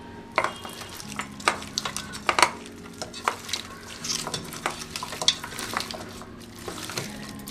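Goat head pieces are mixed with onion by hand in a pot, giving a series of wet squelches, soft clinks and scraping knocks at an uneven rhythm, close and fairly loud, with no talking.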